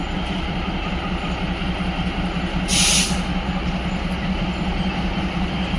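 The Matheran toy train arrives with a loud, steady rumbling engine drone, and a brief hissing blast bursts out midway through.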